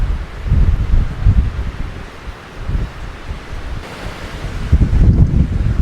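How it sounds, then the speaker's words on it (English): Offshore wind blowing off the mountains at a Mallorca beach resort during Storm Benjamin, a steady roaring rush with gusting swells and rumbling buffets against the microphone, surf washing underneath, no voices. "we have an offshore breeze today. The wind is coming down from the direction of the mountains."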